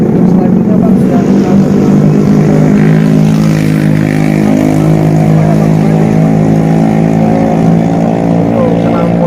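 Loud, rough engine drone from vehicles fitted with modified 'brong' exhausts, heard during a police traffic enforcement operation. A dense, steady low rumble runs for the whole stretch, with a voice speaking over it.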